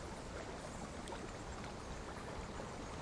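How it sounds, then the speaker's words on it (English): Calm water laps gently against a shoreline in near-still air, making faint, soft splashes and trickles that run steadily in the background with no talking. "Very peaceful water sounds. I guess it's just like lapping up on the shore."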